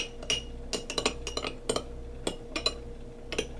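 A spoon clinks against a bowl while stirring a hoisin sauce marinade, a series of quiet, irregular metallic taps and scrapes.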